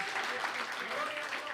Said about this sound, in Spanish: ¿Usted cree que le podemos dar a Dios un aplauso en este momento?